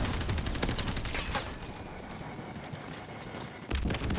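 Rapid automatic gunfire rattles in a Call of Duty: Modern Warfare Remastered multiplayer match on PS5, a dense loud burst that continues steadily, with a faint chirping electronic sound partway through and another sharp burst at the end.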